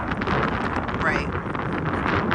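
Wind gusting steadily across a microphone in an outdoor garden while tomato and pepper plants are being planted, a constant rough roar with a person talking under it.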